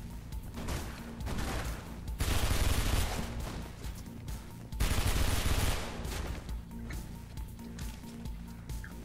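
Shotgun fire in the first-person video game Mirror's Edge: loud booming blasts with dense crackling bursts, two heavy volleys over a continuous rumble of game action, close and with no talk.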